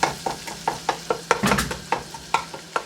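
Tomato masala with butter for moong dal makhani cooks over a high flame, with a steady sizzle and regular scraping stir strokes about every quarter second, close and fairly loud.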